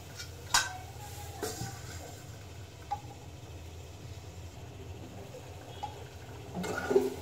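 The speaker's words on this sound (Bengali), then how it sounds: "এতে একটু তরকারিটা কষিয়ে নিচ্ছি আমি" Cauliflower and fish curry sautés in a pan with a low, soft sizzle while a spoon stirs and scrapes, giving a few distinct knocks and clinks against the pan at irregular moments, fairly quiet and close.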